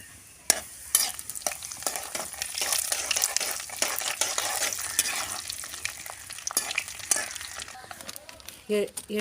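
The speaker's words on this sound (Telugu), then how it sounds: "ముందుగా జీలకర్ర వేసుకున్నానండి" Cumin seeds sizzle steadily in hot oil for gongura chutney, a loud, continuous frying hiss broken by sharp clinks and scrapes of stirring close by.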